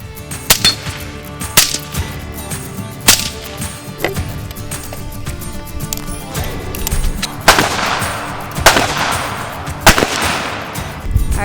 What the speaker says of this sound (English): It's the first time I'm shooting my gun. This is the fun gun, my little 22.